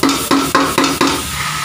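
Ingredients sautéed in a pan, a loud close sizzle with five regular scraping stirs about a quarter second apart, then a continuous hiss, no voices.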